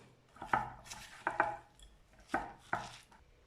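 Chocolate nest mixture being mixed in a bowl, with several soft scraping and tapping strokes in an irregular rhythm at close range, quiet and without speech.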